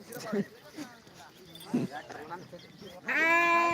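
Sheep at the Balumama temple in Belmachi give one loud, wavering bleat near the end, preceded by murmured talk and scattered low animal sounds.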